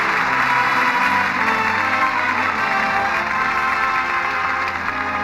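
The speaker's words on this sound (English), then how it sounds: "And that applause says it all." Studio audience at the close of a 1949 Lux Radio Theatre broadcast of The Treasure of the Sierra Madre gives loud, sustained applause, a steady dense roar of clapping with some cheering throughout.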